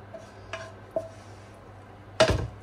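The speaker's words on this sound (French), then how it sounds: "Et on mélange tout ça." A spoon clinks and scrapes against a pot while a prepared mixture is stirred into béchamel sauce off the heat for a white lasagne; three separate knocks, the last loudest and longest, close and alone.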